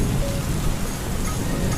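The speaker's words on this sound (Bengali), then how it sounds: "প্রকৃতি যখন তার বৃষ্টির পানি দিয়ে ডোবানালা টইটুম্বুর করতে ব্যস্ত" Monsoon rain falls steadily, a dense, even patter of drops on surfaces, fairly loud and unbroken across the short stretch, with no voices.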